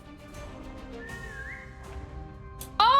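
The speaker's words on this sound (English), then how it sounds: "Oh no, the whistle!" Whistle in a video game, Limbus Company Canto III: a rising, gliding whistled tone in the middle, then a louder, brighter whistle burst near the end over a steady game ambience.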